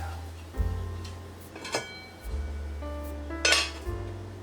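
A 1950s Wear-Ever Hallite aluminum frying pan is handled close by, giving several hollow metallic clanks and ringing knocks with light clinks between them, no talk.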